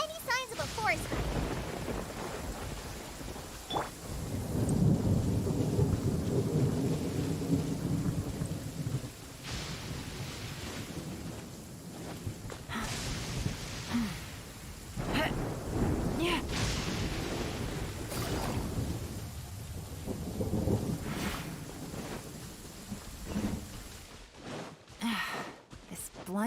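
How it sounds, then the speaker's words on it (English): Heavy rain pours steadily in Genshin Impact while rolling thunder swells and fades several times, booming near and deep; breathy sighs and gasps surface now and then over the storm. "แล้วทำไมฝนตกหนักแรงจัง"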